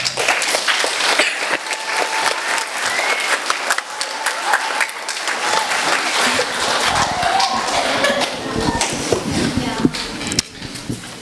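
A crowd applauds the competitors at the 2015 Tropicana Competition, a dense, sustained wash of clapping that swells and holds throughout, with some crowd noise mixed in.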